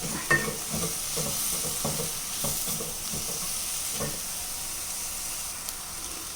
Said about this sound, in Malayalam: മല്ലിയില ഇട്ടൊന്ന് ഇളക്കി കൊടുക്കാം.